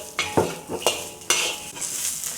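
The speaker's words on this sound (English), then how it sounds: "Then add the mushroom and turn to medium-high to saute the mushroom" Spatula scraping and clanking against a wok as mushroom and carrot are stir-fried over medium-high heat, several distinct metallic strokes with a light sizzle underneath, close and alone.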